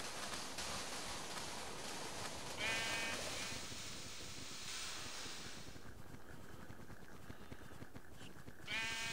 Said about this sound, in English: There's just a random sheep.